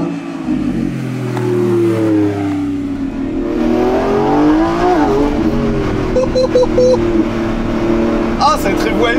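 A Lamborghini Revuelto with a 1015 hp V12 hybrid engine revs and rises in pitch beneath someone talking in French, the engine swelling toward the middle and then easing off.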